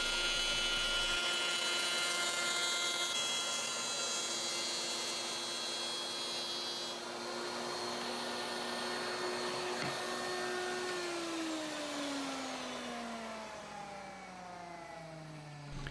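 A power tool cutting a groove for a cutting board juice groove jig, a loud steady motor whine that runs for several seconds, then drops in pitch as the tool spins down. No voices.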